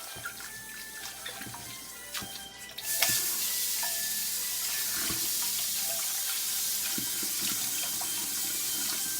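Sea moss being rinsed in water, a steady close rush of running and splashing water that swells louder partway through and continues on its own.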